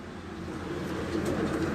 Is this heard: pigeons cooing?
yes